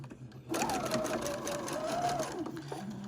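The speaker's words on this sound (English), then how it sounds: "Just a straight stitch, and I do it needle down" A sewing machine runs a straight stitch with needle down on scrappy quilt fabric, a short close burst of quick, even whirring stitches that stops after about two seconds, with faint talk at the edges.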